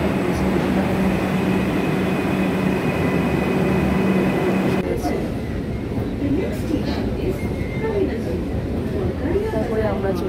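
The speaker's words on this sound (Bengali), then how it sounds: "ফার্স্ট মেট্রো ধরে আমরা বেরিয়ে পড়েছি।" An early-morning first metro train rumbles along in a loud, continuous roar with steady rail noise, its tone shifting partway through as the ride goes on.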